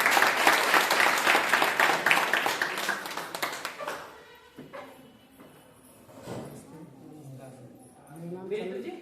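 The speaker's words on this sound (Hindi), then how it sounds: "वेरी गुड, जोरदार तालियां" Applause from an audience at a gathering, a dense loud burst of clapping for about four seconds that fades out, followed by someone talking.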